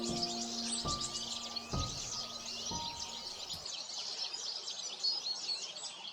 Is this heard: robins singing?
yes